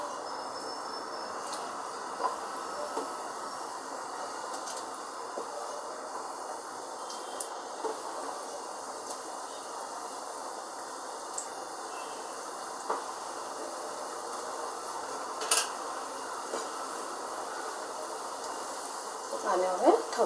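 Sakarpara dough pieces frying in hot oil over a medium flame, a soft continuous sizzle and hiss with occasional small pops, fairly quiet throughout.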